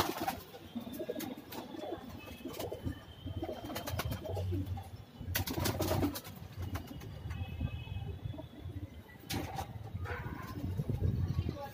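Soft, low pigeon coos repeat against a busy background of rustling and clattering, with occasional sharper knocks.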